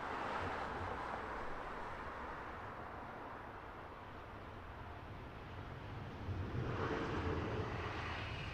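A quiet airliner lands at Heathrow Airport, a soft, distant, low rumble of engines and air that holds steady and then swells slightly near the end, faint overall with no voices.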